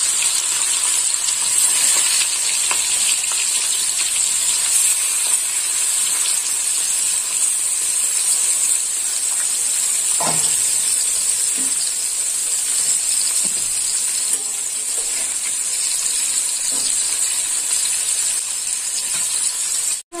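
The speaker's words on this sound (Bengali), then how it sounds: "এবার চিংড়ি মাছটাও ভেজে নেব। দিয়ে দিলাম চিংড়ি মাছ" Shrimp rubbed with salt and turmeric frying in hot oil, a loud, unbroken hiss of sizzling with scattered pops and faint spoon clinks, steady and close throughout.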